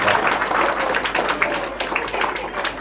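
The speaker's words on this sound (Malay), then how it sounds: "Bagi tepukan kat dia sikit," Audience clapping at a religious talk given by an ustaz, a moderately loud patter of many hands that holds steady before thinning slightly toward the end.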